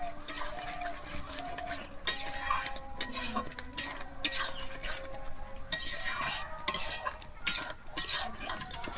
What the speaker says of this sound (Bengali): আমি টক দইটা দিয়ে কিন্তু আবারও খুব ভালোভাবে এখানে নেড়ে নেবো